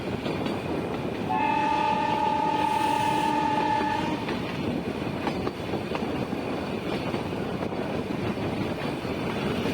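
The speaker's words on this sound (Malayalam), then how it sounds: "ഓരോ വളവെത്തുമ്പോഴും നീണ്ട ഹോൺ മുഴക്കി വളഞ്ഞുകൊണ്ട് നീങ്ങുന്ന ട്രെയിനിന്റെ ബോഗികൾ കാണാൻ നല്ല ചന്തമാണ്" A Nilgiri mountain train on a curving hill line sounds a long, loud horn with steady tonal bands for about three seconds near the start, over a continuous rumble and clatter of moving carriages that carries on throughout.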